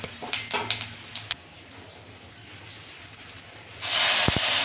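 Ginger, green chili and tomato paste with salt fry in hot oil; a few faint clicks and a low quiet stretch give way to a sudden loud, steady sizzling hiss near the end.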